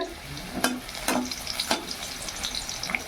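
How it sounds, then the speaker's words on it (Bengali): Potatoes frying in a pan give a continuous close sizzle, with several sharp clacks and scrapes of stirring spaced through it. "এখানে আলু ভাজা হচ্ছে"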